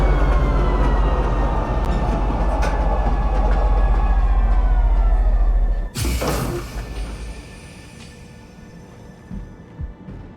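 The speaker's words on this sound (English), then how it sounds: "Now arriving, Central Station. Please watch your step when disembarking the train." A train in the Star Citizen video game pulls into a station with a loud, steady rumbling roar and rail clatter, then a sharp burst of hissing brakes around the midpoint, after which the rumble fades to quieter settling clunks.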